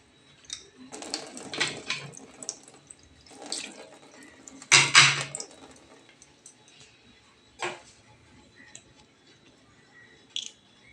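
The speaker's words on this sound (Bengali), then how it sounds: "কাপটাকে একটু ভালো মতন ধুয়ে নিই।" Water splashes and trickles in short bursts as a small glass cup is rinsed, with clinks and handling noises in a quiet home kitchen, one louder splash midway.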